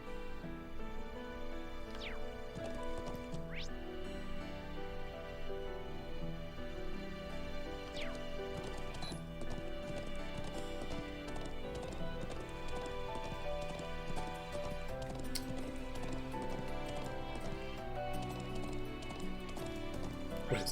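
Horse hooves galloping in Trails of Cold Steel IV, a steady rhythmic clip-clop running continuously under tonal game music, moderately faint throughout with no talk.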